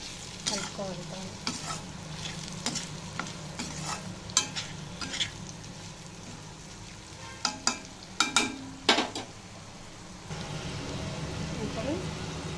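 Dried prawns frying in a pan for a gongura prawn curry, stirred with sharp scraping clicks and clatters over a steady low sizzle; the frying swells louder near the end.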